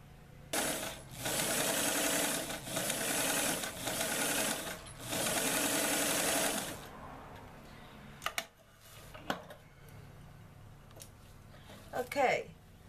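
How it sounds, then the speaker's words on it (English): A sewing machine runs a long straight basting stitch on a doll apron, whirring steadily in several bursts over the first seven seconds, then small clicks and handling noises of fabric and thread follow quietly. "you want to do a basting stitch. So your straight stitch, get your longest stitch"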